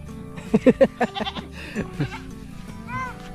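Goats bleat nearby in a quick series of short calls, then a longer, fainter bleat follows after a brief lull.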